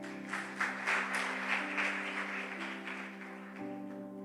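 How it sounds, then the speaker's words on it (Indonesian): A church congregation claps in a steady rhythm over a sustained keyboard chord, the beat moderately loud and fading away as the chord carries on. "Tepuk tangan buat Tuhan."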